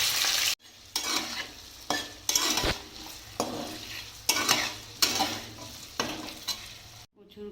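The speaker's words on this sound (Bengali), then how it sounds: "কচুর গাঠিগুলো ভেজে নেব একটু।" Taro stems frying in white oil and ghee in a pan, with a steady sizzle broken by repeated bursts of stirring and scraping at roughly one-second intervals, close and clear.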